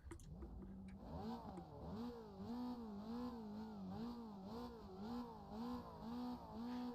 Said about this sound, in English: so you can actually hear the cars when we go past